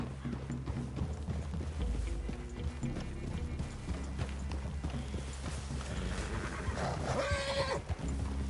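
Several horses clip-clop at a steady walking pace in a video game scene, with occasional snorts and a whinny near the end, fairly quiet and close by.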